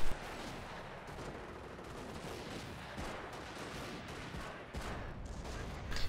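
Grenadier squads firing en masse in a video game battle, a continuous dense barrage of gunfire and explosions with no letup, loud and close throughout.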